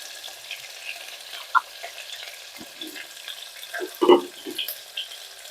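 Small onions sizzle softly in a hot pan for biryani, a steady faint frying hiss broken by a few light clinks and stirring knocks.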